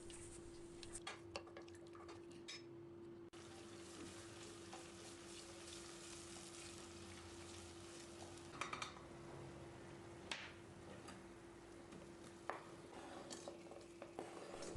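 Tomato and pepper paste frying in olive oil in a pot, a soft, steady low sizzle with occasional spoon stirs and scrapes against the metal, faint and close, over a constant hum, no voices.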